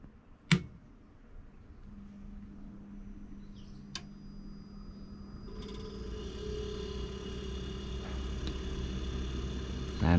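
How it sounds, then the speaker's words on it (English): Residential refrigerator, not cooling due to a leaking capillary tube, powering up: a click, then a low steady motor hum that grows as the fan motor starts and a higher whir joins in, faint and close. "Fan motor started"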